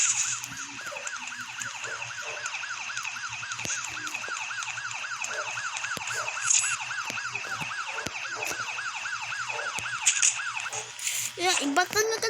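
A police siren in a crime city game wails continuously and loudly in rapid, even up-and-down cycles, ending in a brief clatter of other game sounds; no speech.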